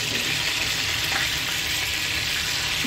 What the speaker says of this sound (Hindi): बस हमें फिर इसको हल्का हल्का तेल में फ्राई करना है।